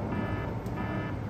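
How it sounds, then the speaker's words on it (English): An alarm in the sci-fi drama Chips sounds as a steady, continuous electronic tone held at an even level over a low hum, with no voices. "Your alarm's going off right now"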